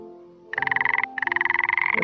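A frog croak in the video game Unwanted Experiment repeats in a rapid, rattling series, close and clear over a faint electronic hum, pausing briefly before continuing.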